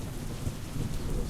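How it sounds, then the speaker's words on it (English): Rain and thunder in the Hex of Steel WWII strategy game, German 1939 East Front in Poland: a steady, full rain hiss with low rolling thunder rumbling underneath, continuous and alone. "now we got some rain"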